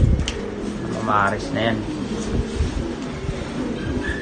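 Pigeons coo nearby in a few throaty, rolling calls while a person talks over them against steady outdoor background noise.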